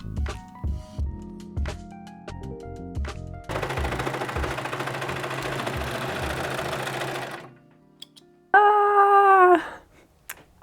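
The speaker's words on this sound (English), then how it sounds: "I then sewed them together but left the top open to flip them right side out." A sewing machine stitches fabric pieces for a bunny hoodie, running in short clattering bursts, then one long steady stretch, and finally a brief loud whirring run; no one speaks.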